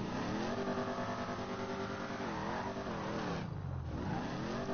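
Mustang in GTA 5, its engine droning loud and steady as it accelerates through gear changes, pitch climbing, dipping and rising again up close.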